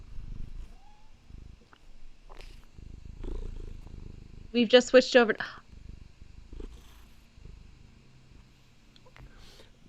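A pet cat purring loudly during a live online discussion, a brief rumbling burst in the middle standing out between stretches of talk.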